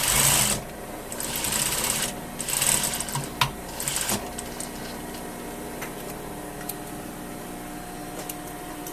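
Sewing machine stitches through three fabric layers of a welt pocket, running in short bursts of rapid mechanical chatter with pauses and a few sharp clicks between, close and fairly quiet.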